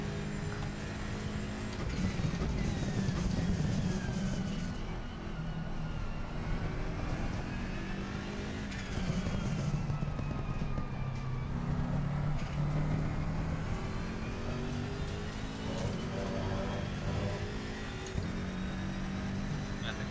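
A race car driving at Silverstone in a racing video game, engine droning steadily with rising and falling revs through gear changes, continuous and moderately loud.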